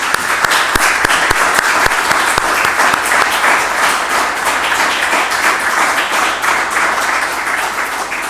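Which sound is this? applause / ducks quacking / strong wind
applause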